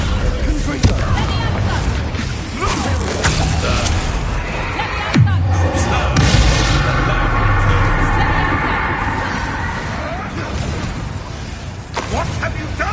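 Confringo blasting spells explode in Hogwarts Legacy combat, a couple of booming bursts with crackling debris amid dense game noise and spoken lines.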